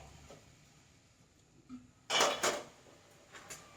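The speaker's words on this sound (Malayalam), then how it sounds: "ഒന്നങ്ങോട്ട് ഒന്നങ്ങോട്ട് മൂടി വയ്ക്കാം" A lid set onto a cooking pan while making pumpkin-leaf thoran, a quiet kitchen followed by a short metallic clatter of lid on pan and a faint clink after, with no talk.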